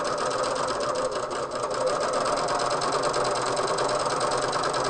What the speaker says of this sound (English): you're now going to just sew, letting the fabric feed.